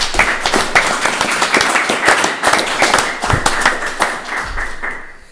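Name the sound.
round of applause for a boxer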